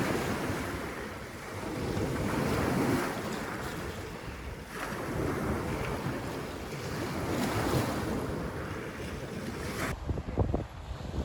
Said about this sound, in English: So I just appreciated the beauty and the vastness that is the North Sea.